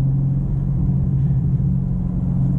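A 2023 BMW M2 with manual gearbox, driven at night in normal mode, gives a steady, low engine drone and road rumble inside the cabin, holding an even level throughout with no talking.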